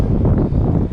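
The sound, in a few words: wind blowing at the beach in Mexico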